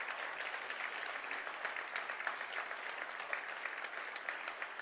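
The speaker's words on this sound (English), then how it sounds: "So a big round of applause for the finalists." A conference audience applauds award finalists at a nature conservation prize ceremony with dense, even clapping that stays fairly soft and steady throughout, with no voices over it.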